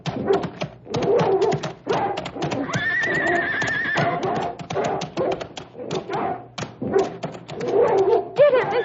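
Prince the dog attacks in an old radio drama, a staged fight of loud snarling and growling bursts over a steady background hum, with a high drawn-out cry in the middle and voices shouting throughout.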